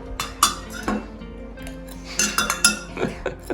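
A spoon clinks against a cup of tea, with several sharp metallic taps and light rattles spread irregularly over a few seconds, close by and moderately loud with no talking.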